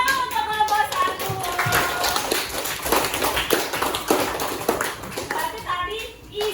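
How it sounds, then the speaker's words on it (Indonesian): Group 1 gets a round of clapping from schoolchildren in a classroom, a dense patter of hand claps that swells and then thins out, with kids' voices mixed in. "Tepuk tangan untuk kelompok 1."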